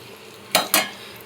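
Cut potatoes hit a pan of frying onions: two quick, loud clattering bursts close by over a faint background sizzle.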